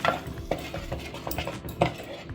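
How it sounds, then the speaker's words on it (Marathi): Masala paste for a Malvani fresh cashew curry roasts in oil until the oil separates, a spatula stirring and scraping the pan in brisk strokes over a soft sizzle. "हे बघा छान असं त्याला तेल सुटेपर्यंत भाजायचं"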